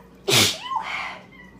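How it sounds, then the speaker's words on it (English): A short, loud cat meow rising then falling, close by, with a faint tail afterward. "Did you hear my cat?"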